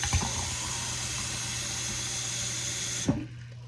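Hot water poured into a container of cold water, a steady broadband rush of running, splashing liquid with a low hum beneath, ending abruptly with a small clunk as the pour stops.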